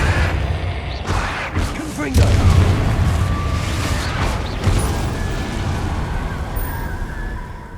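Confringo blasting-curse explosions in Hogwarts Legacy, several heavy booms and bursts landing a second or two apart over a rumbling battle bed, with a voice speaking over them.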